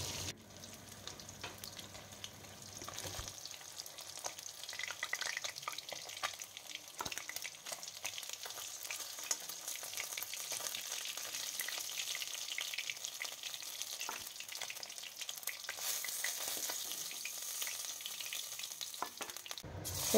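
Fish sizzles steadily as it fries in a pan and is stirred and turned now and then, a continuous close hiss with occasional scraping; no voices.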